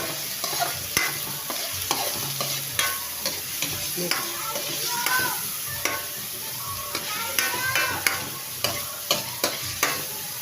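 Garlic and onion sizzle in a hot pan while a utensil stirs them, steady frying hiss under repeated scraping and tapping strokes at a regular rhythm, close and fairly loud throughout.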